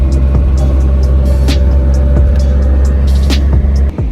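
Toyota Corolla cars, AE86, KE70 and TE72 models, drive on a beach, heard as a loud steady engine drone from inside or close by, with faint rattles and ticks over the constant rumble.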